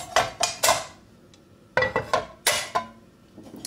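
Several sharp metallic clanks and knocks of a saucepan being handled for making tomato sauce, arriving in two clusters with a quiet pause between them, close by.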